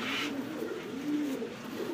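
A pigeon at a pigeon seller's coop gives a low, rolling coo that swells and fades, fairly faint against a steady background hum.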